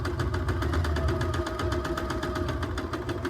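A sewing machine runs steadily as it stitches along a fabric edge following a guide line, giving a fast, even mechanical chatter with a low motor hum, close and continuous with no talking.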